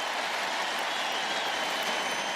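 A college football stadium crowd roaring and cheering during a K-State versus TCU game, a dense, steady wall of noise from many distant voices with no pauses.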